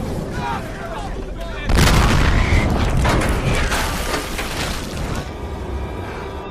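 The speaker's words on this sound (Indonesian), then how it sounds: "sebuah pesawat jatuh dan meledak tepat di hadapan John" A loud, sudden explosion of a crashing airplane in a film scene, a heavy boom bursting out amid rumbling, clattering debris and roaring fire that fades slowly over several seconds.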